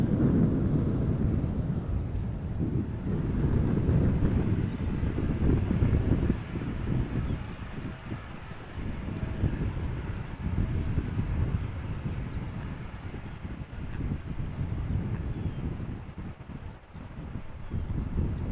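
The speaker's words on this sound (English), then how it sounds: "the Embraer 175 to Gothenburg is also taking off from the runway threshold." An Embraer 175 takes off from the runway threshold at Amsterdam Schiphol Airport, a distant, steady low-pitched jet rumble that swells and fades slightly, with wind buffeting the microphone.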